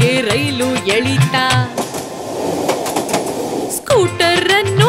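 A cartoon toy train rumbles and clatters in a brief burst between lively sung voices in a children's rhyme, the rushing noise filling the middle of the clip before the singing returns.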